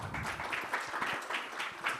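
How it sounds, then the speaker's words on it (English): Sparse, fairly quiet clapping from an audience at a design competition finale, a few hands beating out loose, uneven claps for about two seconds with no talk. "A round of applause for sir, please."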